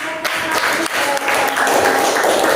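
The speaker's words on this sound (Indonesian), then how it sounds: "Kasih tepuk tangan." A school class applauding after a group presentation on halal and haram in Islam, a short burst of lively clapping from many hands filling a small room, with a voice faintly underneath.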